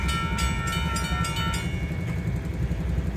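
A Union Pacific local freight train, locomotive 1035, rolls past close by at a road crossing, a steady heavy rumble with rhythmic rail clatter, loud and continuous with no voices.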